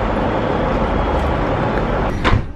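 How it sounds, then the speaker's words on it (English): A train pulls up at a platform on the line toward Birmingham, with a steady low rumble throughout and a brief hiss near the end, like brakes or doors. "Here's our second train of the day."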